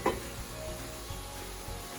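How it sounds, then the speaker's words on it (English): Thick batter is stirred by hand in a measuring cup: a few soft, scraping strokes, quiet and close, with no voices. "So I'm going to mix this."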